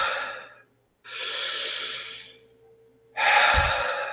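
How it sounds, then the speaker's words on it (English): Deep, deliberate breaths are drawn in and pushed out in a slow rhythm during a rest between sets of a bodybuilding workout, with three long airy inhales and exhales separated by short pauses, close and clearly audible. "purposely try and do deep breathing"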